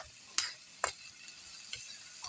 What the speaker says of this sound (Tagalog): Mga ganito, gisa-gisa muna.